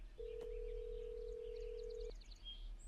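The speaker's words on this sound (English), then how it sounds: "as soon as I finish inputting that code on my keyboard, the phone starts ringing" A telephone in the horror stealth game Hello Neighbor gives one steady electronic tone lasting nearly two seconds, then a few faint chirping beeps follow over a low background hum.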